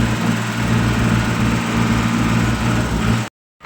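Tractor engine running loud and close in a muddy field, a steady low throbbing drone that cuts off abruptly near the end.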